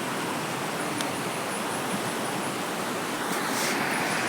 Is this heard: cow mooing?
no